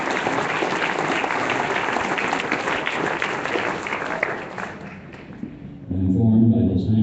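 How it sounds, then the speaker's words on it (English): A crowd of around a hundred gives a standing ovation, dense continuous applause filling the room before it fades, followed by a low hum. "Giving a standing ovation"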